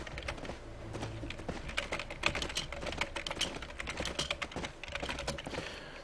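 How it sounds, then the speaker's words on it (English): Rapid, continuous clatter of computer keyboard keys being typed on while messaging, close and steady with irregular bursts of keystrokes, no talking. "Sorry, typing messages to people."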